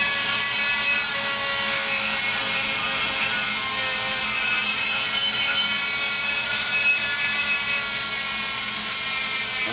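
An LS cylinder head's exhaust port is smoothed with a power tool, giving a loud, steady, continuous rasping whine that holds the whole stretch with no talking.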